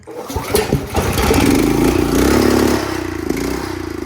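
A small engine, freshly fitted with a rebuilt carburetor, fires after a few pulls and settles into a loud, close, steady running putter with a rapid chugging rhythm.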